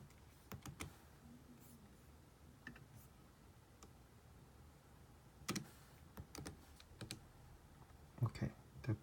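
Scattered keystrokes of a password being typed on a computer keyboard, clustered in short quiet bursts with pauses between, faint against a low room hum.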